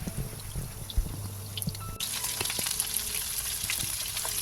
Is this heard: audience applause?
no